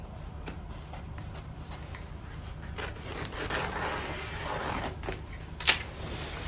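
Fabric of a circle skirt being cut open, heard as quiet, steady rustling and snipping with a slightly sharper cut near the end.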